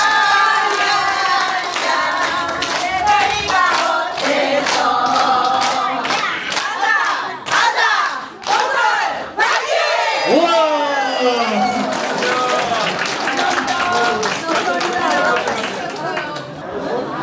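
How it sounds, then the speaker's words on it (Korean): At a Daeboreum full-moon yut-nori festival at a temple, an outdoor crowd claps and cheers amid busy chatter, with children shouting and occasional thumps; voices talk throughout over the clapping. "자, 한번자 박수 부탁드립니다."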